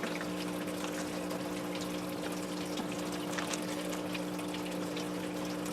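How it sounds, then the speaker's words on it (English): Water trickles and drips down through a Garden Tower 2 planter as a steady faint wash of flow, with a constant low hum underneath. "Just let it drip down."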